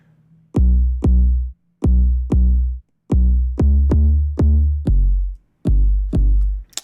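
A synthesized kick drum repeats about eleven times in an uneven pattern, each hit deep and booming with a falling pitch and short sustain, alone.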